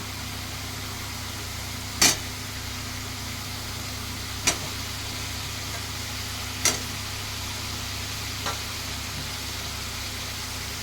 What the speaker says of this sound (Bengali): এবার আমি এর মধ্যে ফুলকপিগুলো দিয়ে দেব।